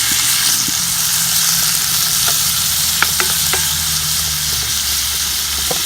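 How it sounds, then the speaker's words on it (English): Bacon, onions and garlic sizzle and fry steadily in a pan on a Weber Smokey Joe grill, with a few brief scraping clicks of stirring over the continuous crackle; no one speaks. "I'm going to get these onions to caramelize a little bit."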